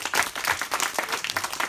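An audience breaks into applause for a teacher, Mr. Lee, at a school event, a short burst of scattered clapping with some crowd murmur and voices mixed in.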